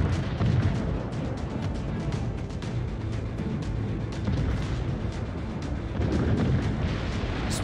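Ship cannon fire in the naval video game World of Warships rolls on as a continuous, loud rumbling barrage of overlapping booms with no let-up, and no voices are heard.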